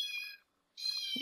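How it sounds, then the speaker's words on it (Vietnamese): A cat gives two high, fairly quiet meows with a short silent gap between them and no other sound. "Bạn có nghe được nó đúng mèo không?"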